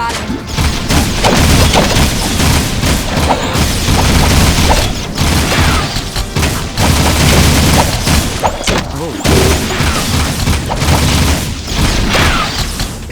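Heavy gunfire erupts in the Jak II video game on PS2, with loud continuous blasts and booms layered over game music and effects, and voices speak briefly amid the barrage.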